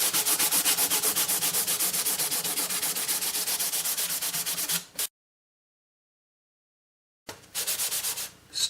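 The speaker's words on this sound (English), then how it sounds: "Basically, I'm sanding all of the lacquer sanding sealer back off." Lacquer sanding sealer is sanded off a wooden guitar body in fast, rhythmic back-and-forth scratchy strokes, close and steady, broken by a pause of about two seconds before the sanding resumes.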